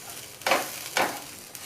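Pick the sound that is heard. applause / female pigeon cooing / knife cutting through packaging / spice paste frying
spice paste frying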